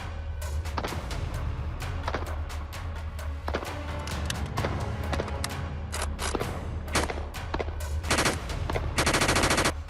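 Rapid bursts of gunfire crackle in quick succession over a low rumbling background, with dense volleys of sharp shots and a brief buzzing burst near the end, no talk.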